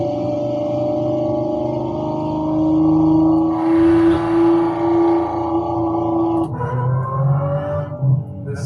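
A Lamborghini Revuelto V12 fitted with a Gintani exhaust holds a steady, loud droning tone that swells and rises in pitch, then shifts upward as revs climb near the end.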